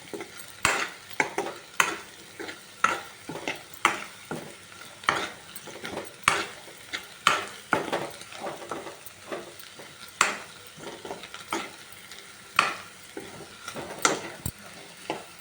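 Egg bhurji frying in a pan with a steady sizzle while a spoon scrapes and stirs in a regular rhythm, sharp metallic clinks against the pan recurring every second or so, close and clear with no talking.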